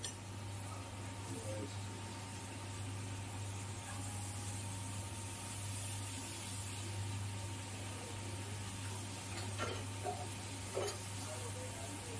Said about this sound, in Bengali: ফুলকপিটাও তো ভাজা হবে, হালকা হালকা।